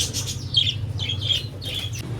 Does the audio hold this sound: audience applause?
no